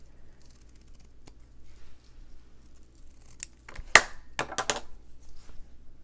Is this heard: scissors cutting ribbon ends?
yes